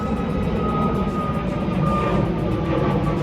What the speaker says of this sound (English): You can hear a plane flying over my head right now.